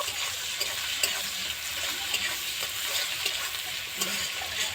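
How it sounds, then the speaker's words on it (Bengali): Chopped onions sizzle quietly in a pan of oil, with a continuous hiss and occasional light clinks of a spatula stirring them. "এবার দিয়ে দেবো পেঁয়াজ কুচি। পেঁয়াজটা ভেজে নেব।"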